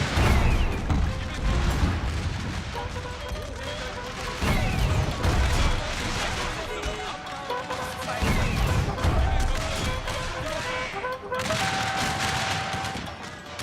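Canister artillery and massed rifle fire in a Civil War video game battle at Fort Wagner, dense rolling volleys and booming shots rumbling continuously, with a voice talking over parts of the din.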